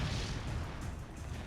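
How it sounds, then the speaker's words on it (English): Rapid, continuous explosions from the Jak II video game, a dense rumbling barrage of booms and bursts that runs loud and steady throughout with no pauses. "this many explosions."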